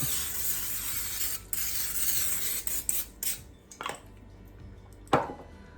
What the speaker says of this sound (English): we want to get our 13x9 baking dish, and we want to spray the bottom of it